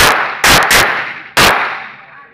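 Sharp gunshots crack out at a police shooting competition on an outdoor range. There is a single shot, then a quick pair, then another single shot after a pause. Each report is loud and close, with a decaying echo after it.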